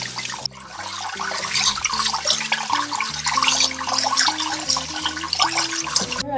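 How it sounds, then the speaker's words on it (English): Running tap water splashing over goat meat being rinsed in a bowl, a steady close gush with sloshing and stirring throughout, accompanied by soft background music. "we'll rinse a couple of times and then drain it"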